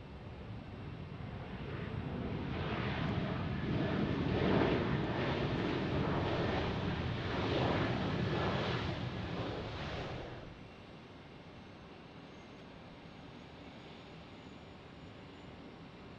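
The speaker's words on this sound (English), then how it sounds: "It's a nice, smooth landing there by" An American Airlines airplane landing at Tampa airport: a loud, broad roaring rumble that swells and then drops off sharply, leaving a steady, quieter background hum.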